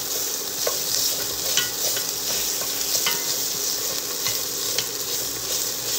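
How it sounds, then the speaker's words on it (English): Vegetables and tomato paste toast in oil in a pan while being stirred, for a pork osso bucco: a steady, close sizzle runs throughout, broken by repeated scraping clicks of the spoon against the pan. "And we're going to toast it in the oil"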